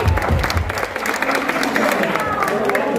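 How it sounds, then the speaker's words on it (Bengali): Crowd applause at a Pohela Boishakh (Bengali New Year) gathering at Chungnam National University in South Korea: steady, dense clapping throughout, with voices talking over it. "হাততালি সবাই, হাততালি।"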